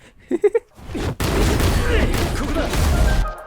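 A skill-H blast fires in the Roblox game A Universal Time, a sudden booming burst followed by a loud, rumbling, crackling wash lasting a couple of seconds, preceded by brief vocal-like blips.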